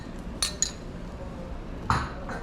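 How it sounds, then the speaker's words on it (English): A utensil scrapes and clinks against a pot while stirring whole grain mustard into cranberries, with a few soft metallic taps and a louder clink near the end over a quiet background. "I'm just going to mix this around."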